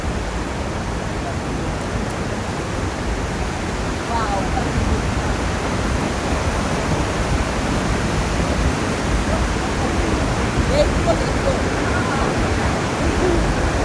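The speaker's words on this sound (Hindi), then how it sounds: "इधर गिर रहा है सारा पानी।" Large waterfall in Zimbabwe, a massive volume of water plunging down, heard as a steady, loud, broadband roar that stays constant throughout, with faint voices under it.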